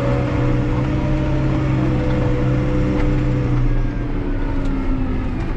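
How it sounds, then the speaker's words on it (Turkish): A New Holland T5.140 Auto Command tractor engine runs with a loud, continuous low drone and steady tonal hum, heard close up without interruption. "görüyorsun arkadaşlar çıldırıyor traktör gitmek için"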